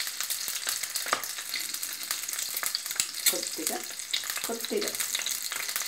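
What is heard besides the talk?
frying in a pan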